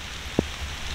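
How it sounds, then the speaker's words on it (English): Rain falling outdoors in Ohio woods in late October, a soft, continuous hiss of drops with one brief low knock partway through. "it's raining right now"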